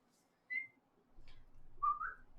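Distinctive whistles pass between players at a tabletop Dungeons & Dragons session as signals: a short sharp high whistle, a faint brief chirp, then a longer rising whistle, quiet over a low background hum, with no talking.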